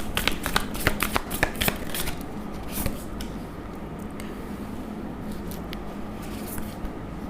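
A deck of tarot cards is shuffled close up, with rapid riffling bursts in the first few seconds that give way to a softer, steady rustle.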